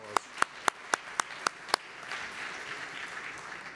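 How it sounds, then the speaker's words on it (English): In a synagogue during a rededication program, one person claps seven sharp, evenly spaced times up close, then a softer, more distant scattering of audience applause carries on. "We can give her a hand of applause."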